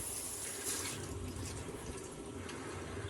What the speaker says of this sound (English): I just heard water rush up into the hot side manifold